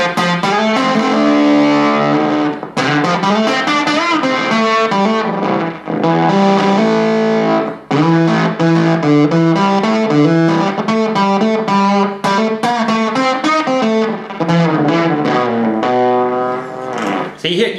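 Heavily distorted, gated fuzz guitar through a silicon fuzz pedal, playing loud, continuous riffs with a buzzy octave-like edge, sustained throughout.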